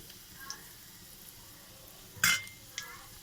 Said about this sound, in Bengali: আমি এবার এক এক করে সব ভাজবো